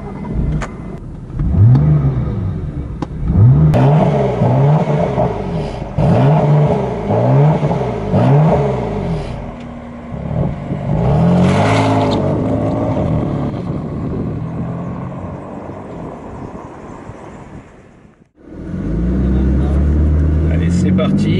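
A BMW M3/M4 from 2014 accelerates hard around the Portimão circuit in Portugal, the engine revving up loudly through repeated gear changes, then a sudden cut and a strong pull again, with someone speaking over it.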